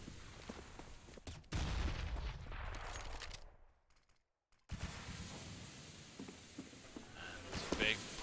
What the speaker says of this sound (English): MN drops the first frag, opens it up. The man with the AK